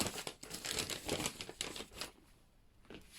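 Close, crackly crinkling of a paper instruction sheet from a diamond painting kit being handled and shuffled for a couple of seconds, then it quiets down.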